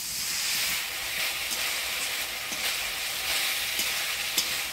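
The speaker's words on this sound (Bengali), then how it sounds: "মশলাটা আমি ভালো করে কষিয়ে নিলাম" Ground spice paste of coriander, cumin, ginger, chilli, turmeric and salt, loosened with a little water, hisses and sizzles steadily in a pan, with occasional stirring scrapes and steam.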